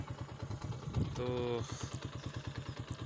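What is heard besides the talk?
motorcycle engine idling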